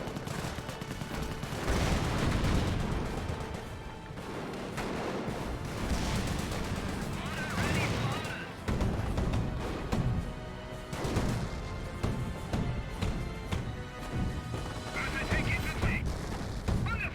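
Sustained battlefield gunfire rattles through a Company of Heroes 1 match with Panzer Elite against British forces, overlapping bursts and booms running continuously beneath a commentator's voice.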